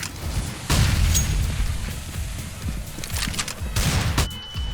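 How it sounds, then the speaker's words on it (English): A flashbang grenade goes off in a first-person shooter game, a loud close burst followed by a rumbling low roar and further muffled booms and pops. "Throwing flashbang. Fire in the hole."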